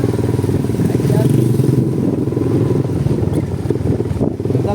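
A Yamaha Sniper motorcycle engine runs close by with a steady throbbing putter, loud throughout while people talk over it.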